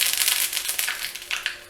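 Mustard seeds, 1.5 teaspoons, pop and crackle in hot coconut oil in a Kerala kitchen, giving a dense, close run of sharp bright crackles and spits with no talking.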